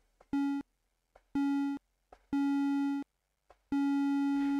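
Retro 8-bit synthesized tone from BFXR with a lengthened sustain setting, four flat buzzy beeps repeating with gaps, each held a little longer than the last, clean and alone.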